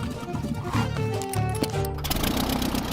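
A cheap small plane's engine drones with a rough, buzzing, lawnmower-like tone, running steadily and fairly loud throughout.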